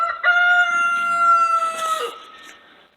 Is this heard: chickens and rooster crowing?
yes